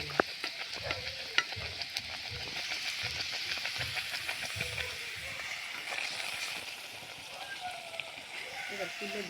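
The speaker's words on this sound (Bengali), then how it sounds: "গরম হলে আমরা পুরিটা ভাজে নিব" Spinach puri fries in hot oil, a steady close sizzle and bubbling with soft sloshing, while a voice talks intermittently over it.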